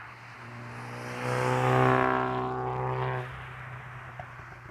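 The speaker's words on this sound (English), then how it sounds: "People racing on a foggy day on very narrow roads." A car races past on a narrow, foggy country road. Its engine note swells as it approaches, peaks loudly with a revving drone, then fades away, leaving quiet outdoor air.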